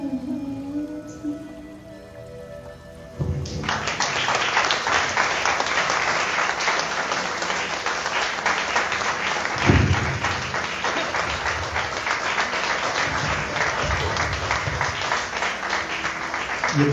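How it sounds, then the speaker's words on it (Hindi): After faint sounds at the start, a burst of audience applause following a performance at a Hindi writers' guild autumn festival in Canada erupts and stays loud and dense, a thick continuous clatter of many hands lasting well over ten seconds. "ये तालियों की गर्जना बता रही है कि कार्यक्रम कितना सुंदर प्रस्तुति हुई है"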